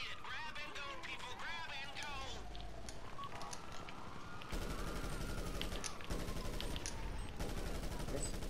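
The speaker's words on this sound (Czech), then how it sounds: "Dobrý, jenom to se střílí, jo?" Bursts of rapid gunfire in GTA Online's Pacific Standard heist crackle behind chattering voices, with a sweeping electronic tone gliding underneath.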